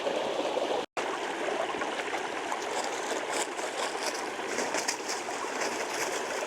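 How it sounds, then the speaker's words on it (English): A stream at Weiser State Park near McWilliams Reservoir runs steadily, a close and full rush of flowing water with a constant trickling texture and no voices over it. "heard the water running"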